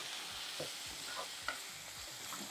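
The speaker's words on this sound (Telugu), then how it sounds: "వేయించేసుకొని" Ground coriander and cumin powders fry in a pan for a Telugu brinjal tamarind curry, with a steady soft sizzle and a few scraping stirs of the spoon, close by, no voices.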